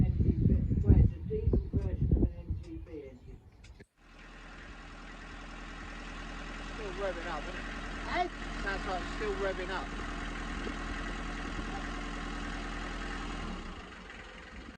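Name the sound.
old taxi diesel engine idling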